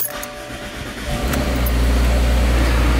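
A car engine turns over and catches, then settles into a steady low rumbling idle, close by.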